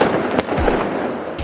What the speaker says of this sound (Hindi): इस बिल्डिंग के बाद जो आतिशबाजी हुई थी